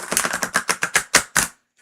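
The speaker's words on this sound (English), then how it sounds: "Shuffle nicely." A deck of tarot cards is shuffled in a quick run of about eight crisp, rustling bursts lasting under two seconds, close and fairly loud, ending abruptly.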